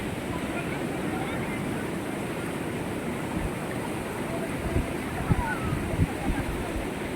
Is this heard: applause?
no